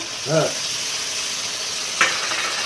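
Onion with ginger, garlic, cinnamon and cardamom fries in oil with a steady sizzle, broken by two brief clinks of a spoon against the pan.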